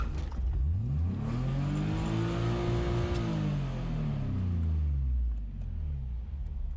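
A BMW M3 drift car engine revs up and back down in one long sweep, its raspy exhaust note climbing, holding, then falling, moderately close with no voices.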